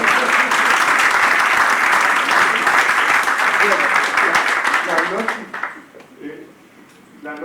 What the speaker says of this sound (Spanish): yo le daría al tiro un aplauso por esto